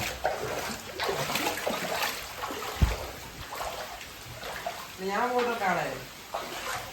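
Heavy rain pours down steadily outside a house, a constant broad wash of noise running throughout under people talking nearby.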